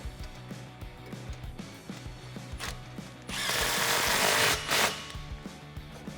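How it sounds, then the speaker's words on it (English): Power tool driving down an exhaust pipe clamp while fitting a Rough Country dual exhaust with side exit on a 2014-2018 Silverado/Sierra pickup, heard as a loud, sustained whir of about a second and a half, then a short second burst amid faint ticking. "you want to tighten down that clamp"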